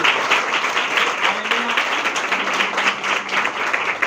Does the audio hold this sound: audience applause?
yes